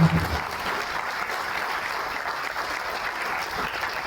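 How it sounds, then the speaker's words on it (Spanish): An audience at a talk on creative tourism in Guatemala breaks into sustained applause, a full, even roar of many hands clapping that holds steady throughout, with faint crowd voices underneath. "quiero que ustedes den un aplauso por esta bella cultura que tienen"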